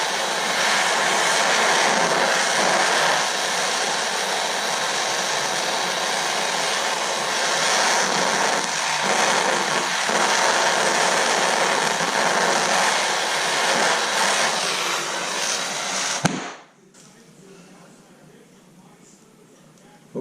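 A torch heating a sterling silver buckle for soldering, a steady loud roaring hiss held for about sixteen seconds before cutting off abruptly into quiet.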